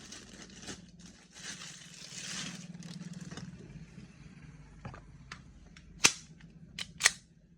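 A WE Tech T-Rex Hi Capa 5.1 airsoft pistol is dry-fired with no BBs: three sharp, loud snapping shots, the last two close together, after quieter handling scrapes and rustles.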